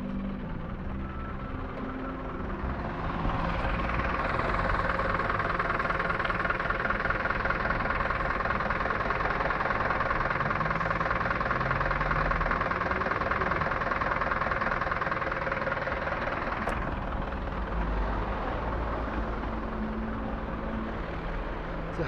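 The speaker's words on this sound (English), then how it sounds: "so they can hear your diesel engine running" A diesel engine runs at a steady idle nearby, a continuous low rumble with a constant drone that holds evenly throughout, and no voices are heard.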